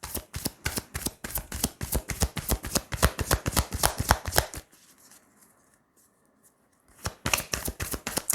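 Tarot cards handled and laid down in a fast, steady run of crisp flicking snaps that stops for about two seconds of near quiet, then starts up again just as briskly.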